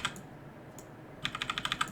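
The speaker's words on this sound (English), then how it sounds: "shuffle our deck and make this little drone that we're going to have to fight" A deck of cards for the Marvel Champions card game being shuffled: quiet handling at first, then a quick, crisp run of about ten rapid clicking snaps, close by.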